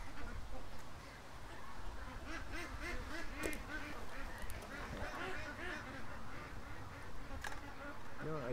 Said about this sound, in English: The ducks are coming home.